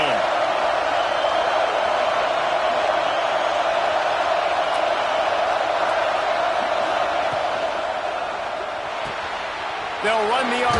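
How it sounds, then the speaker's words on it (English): Dense, steady roar of a stadium crowd at a Clemson vs FSU college football game, loud and continuous throughout, with a brief lift of noise near the end and a commentator's voice faintly over it. "This crowd ready to make its presence known."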